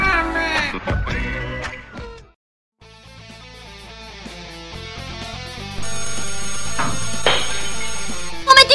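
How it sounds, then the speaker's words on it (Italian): A telephone rings in an Italian animated cartoon series, a musical electronic ringtone repeating in a steady pattern after a short burst of other sounds and a brief silence, fairly loud and alone. "se il telefono ti sveglia, non rispondere"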